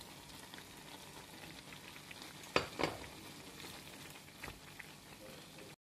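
Bell pepper added to a stir-fry of chicken and vegetables sizzles quietly and evenly in the pan, with a couple of sharp clinks of a utensil midway and a fainter one later.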